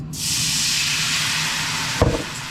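Water hits a hot pan while deglazing a red sauce, bursting into a loud steady steam hiss that runs for about two seconds before a short knock or scrape interrupts it.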